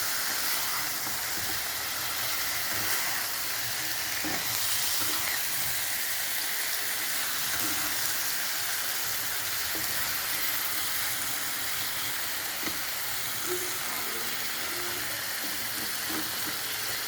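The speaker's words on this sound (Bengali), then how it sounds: "এবার এটা ভালো করে এর সঙ্গে পেঁয়াজ রসুন আদার সঙ্গে মিশিয়ে দিচ্ছি।" Marinated chicken fries in a pan with onion, garlic and ginger, a dense, even sizzle running loud and unbroken throughout, with faint stirring knocks now and then and no talking.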